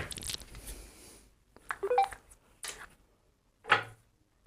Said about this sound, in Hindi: फोन पड़ा था एक, बजने लग गया।